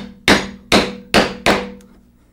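Four sharp mallet blows on a wood chisel chopping a mortise in timber, evenly spaced about half a second apart, each a loud close crack with a ringing decay, fading out after the last strike.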